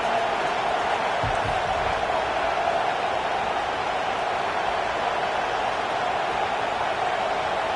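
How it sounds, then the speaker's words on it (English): A distant stadium crowd in a college football video game roars as a steady, washed-out wall of noise, with no distinct voices standing out. "This crowd bringing the energy and noise early."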